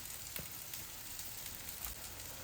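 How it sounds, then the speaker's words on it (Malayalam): A coconut-based paste simmers in a cooking pot, a faint, soft bubbling hiss broken by small scattered pops, heard alone and quietly. "അപ്പോൾ ഇത് അരപ്പ് തിളച്ച് വന്നിട്ടുണ്ട്."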